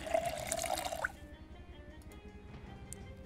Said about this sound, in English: We'll fill up our spray can.